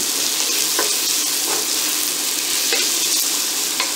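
Onions sautéing in a pan as the base for a chicken tagine with preserved lemon, a loud, dense, continuous sizzle close by with faint periodic scraping of stirring.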